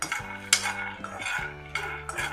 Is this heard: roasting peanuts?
yes